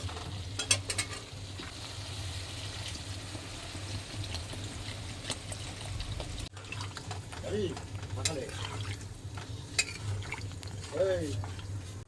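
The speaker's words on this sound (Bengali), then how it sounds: "মশলাটা কিন্তু একদম কষানো হয়ে গেছে এবারে এতে জল দিয়ে দেবো" A fried spice paste for a rohu fish and jackfruit curry sizzling in a pan as water goes in, with a steady hiss, stirring clatter and a brief break in the sound partway through, while someone talks over it.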